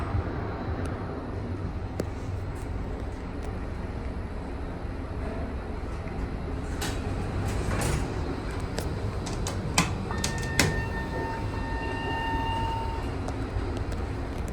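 An inclined elevator runs at the Huntington WMATA Metro station in Huntington, Virginia, giving a steady low rumble with scattered clicks and a thin whine in the later part.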